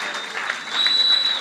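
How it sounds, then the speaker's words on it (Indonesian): An audience claps together in appreciation at a Christmas and New Year church gathering, a dense burst of applause with some crowd noise, loud and close, with no talking. "Sekali lagi kasih tepuk tangan buat Tuhan Yesus"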